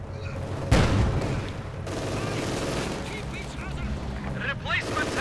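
Gunfire and explosions from a Company of Heroes 2 match: a loud boom-like burst of shooting, then a steady dense clatter of battlefield fire with game voices and radio chatter over it.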